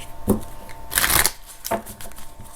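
Tarot card decks being shuffled nearby, with several crisp riffling bursts, the loudest in the middle, over a quiet room and no speech.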